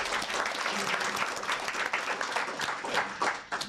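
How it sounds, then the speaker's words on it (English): Audience applause at a talk-story and book-signing event for a book on Hawaiʻi's internees, steady dense clapping sustained throughout with slight swells, moderately near, no talk over it. "let's give them another round of applause"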